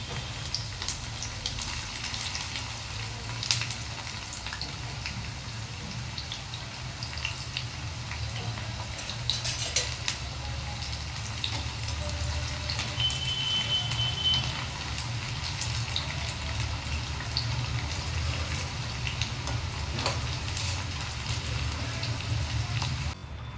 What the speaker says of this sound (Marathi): कढईत तेल गरम करायला ठेवलेले आहे त्याच्यात कापलेले काप तळून घेऊया